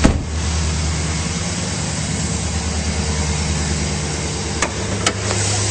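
The engine of a 2010 Chevrolet Silverado 1500 pickup, fitted with an aftermarket cold air intake, idles smoothly under the open hood, a steady low hum heard close and alone apart from a couple of faint clicks.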